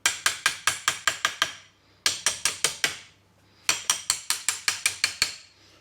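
Metal tapping on a seized part of a 1954 truck comes in three quick bursts of sharp, ringing hammer strikes, about seven to eight blows each with brief pauses between, close and clear with no talking.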